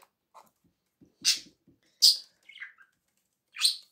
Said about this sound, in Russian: Вот такая птица